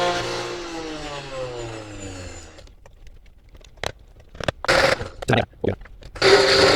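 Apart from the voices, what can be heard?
blender blending pumpkin, cream and eggs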